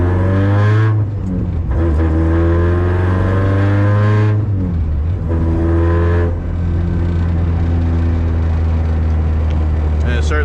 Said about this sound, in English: Right here I was just revving up there, trying to find idle